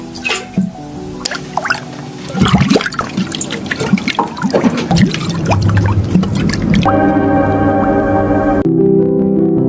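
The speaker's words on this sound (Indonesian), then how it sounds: "dibangunkan dengan suara air dari keran yang ada di kamarnya" Water from a tap in a bedroom at night drips and trickles unevenly at close range, then settles into a steadier run as tense music swells over it.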